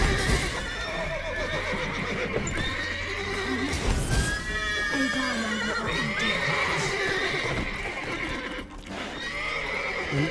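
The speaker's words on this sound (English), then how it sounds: "Calm the horses with Axie" Agitated horses in The Witcher 3 video game, neighing and whinnying repeatedly with hoof clip-clops, loud and close across a restless herd, with no talking.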